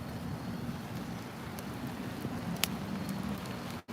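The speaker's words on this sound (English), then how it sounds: "It's raining." Rain falls in a steady, dense hiss, with a few sharper drips and taps standing out and a soft low rumble beneath, fairly close and continuous until a sudden cut at the end.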